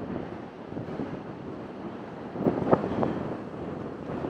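Rough ocean surf breaks over the reef off Kauai, a continuous washing roar with wind buffeting the microphone and a heavier surge of crashing water midway through.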